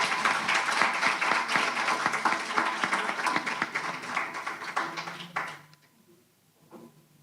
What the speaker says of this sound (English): let's give a round of applause to our fathers